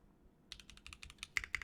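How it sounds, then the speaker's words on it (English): Spacebar of a mechanical keyboard on a Pegasus prototype build, pressed in a quick run of about nine close, crisp clacks, with one or two louder strikes near the end and no voices. "This spacebar sounds really damn good"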